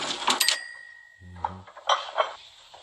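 Gold bars handled on a counter, a few bright metallic clinks and knocks, one with a short ringing tone, scattered over a quiet background with a soft low thud midway.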